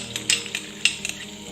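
Cumin, ginger and green chili tempering in ghee in a pan, giving a soft steady sizzle with a few sharp clicks of a spoon stirring against the metal.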